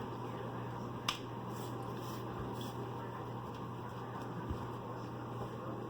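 A low-speed kitchen mixer motor hums steadily, breaking up bananas for banana bread, with a constant low drone, faint high whine and a couple of sharp clicks.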